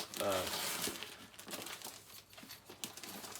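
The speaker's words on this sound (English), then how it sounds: "hearing me tear up stuff right now like this" Paper packaging on a metal box of comics is torn and crinkled up close, with a burst of rustling and ripping followed by lighter scattered crackles.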